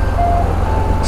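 An ice cream truck passes on a downtown Los Angeles street, its thin sustained chime tones ringing over a low traffic rumble for about a second.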